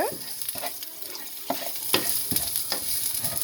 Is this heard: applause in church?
no